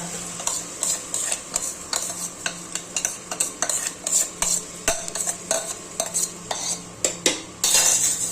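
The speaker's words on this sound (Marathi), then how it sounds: "आणि हे ना असं चांगलं परतवून घ्यायचं हे पहा असं भात फ्राय होऊन द्यायचा" Cooked rice stirred and fried in ghee in a pan, with a spoon scraping and tapping the metal in quick repeated strokes over a soft sizzle, close up and without speech.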